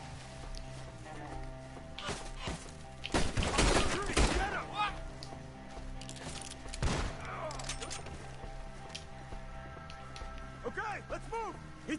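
Rapid bursts of gunfire crackle in a Red Dead Redemption 2 shootout, a heavy volley in the middle and further scattered shots, with voices talking over the fighting.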